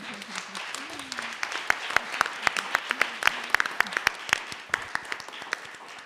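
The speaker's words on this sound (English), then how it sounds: "let's just give everybody a round of applause" Audience applause at a museum panel discussion on climate storytelling, steady clapping with sharp individual claps standing out near the listener, and a voice talking briefly underneath at the start.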